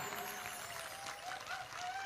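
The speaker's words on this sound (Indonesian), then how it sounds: "Gak usah tepuk tangan." Steady applause from a crowd at an Islamic boarding school gathering, a dense even patter of clapping that holds at a moderate, somewhat distant level for a couple of seconds.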